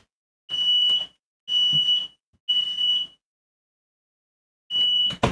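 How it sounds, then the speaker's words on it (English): A smoke alarm shrieks in loud, piercing bursts about a second long, three in a row, then a pause before it sounds again. "I think it's just somebody smoking next to the fire alarm."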